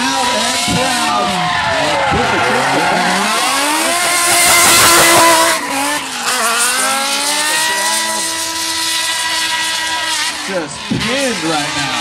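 A drift car in competition qualifying at Drift Atlanta 2010, driven by Michael Essa for GSR Autosports, revs hard and slides with squealing tires, loud and continuous under excited commentary from an announcer.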